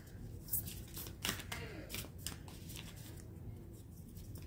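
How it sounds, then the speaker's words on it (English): A deck of tarot cards being shuffled by hand, with several quick riffling and slapping bursts over a steady low background hum, fairly close and without talk. "See, these cards are hard for me to shuffle."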